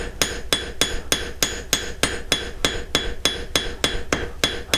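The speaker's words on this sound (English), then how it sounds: "Kind of overlap my hammer blows, and you'll be able to see all those marks of the cross peen remove." A flat-peen hammer planishes sterling silver in a steady rhythm of about fifteen sharp, ringing metallic blows, evenly spaced and close, each strike clear and bright with no talking.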